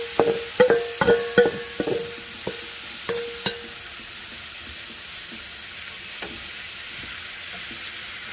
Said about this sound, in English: I'm going to start sauteing my tomato, onion, and jalapeno